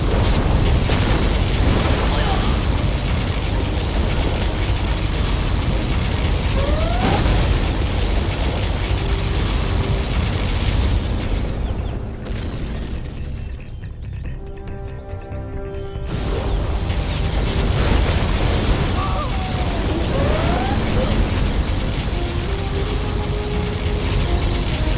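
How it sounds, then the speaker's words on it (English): Particle cannon blasts and explosions in the real-time strategy game Command & Conquer Generals Zero Hour, a dense, loud, continuous roar of booming detonations that thins briefly mid-clip before surging back. "Particle cannon activated."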